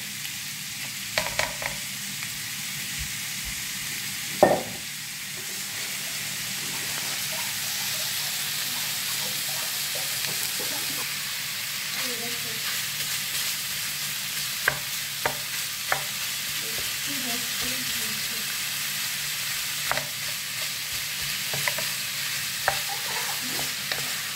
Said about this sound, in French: Le bœuf à la poêle, il faut qu'il soit bien cuit